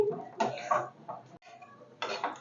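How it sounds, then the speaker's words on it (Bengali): A spoon scrapes and stirs semolina and grated coconut in a pan on a village home stove, with several short bursts of scraping and metal clatter separated by brief pauses, close and moderately loud. "এবার একটু নাড়াচাড়া করে নিচ্ছি"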